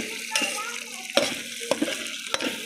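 Okra curry cooks in a pan with a soft sizzle under several distinct scraping strokes of a spoon, a few clacks spaced about a second apart.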